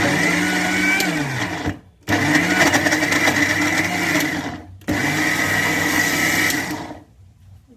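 A mixer grinder whirs loudly up close while grinding batter for yellappa, a traditional Tulunad sweet, in three bursts separated by short pauses, its pitch dipping as each run starts under load.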